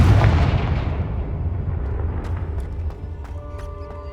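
Confringo fire spell from Hogwarts Legacy, a single deep explosion that bursts loudly at the start and rumbles away, fading over several seconds into faint ringing tones.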